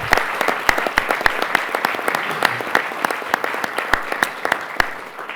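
A small audience at a New York state government announcement on water quality gives a round of applause for the Nassau County executive, distinct individual claps standing out against a thinner steady patter, no talk over it.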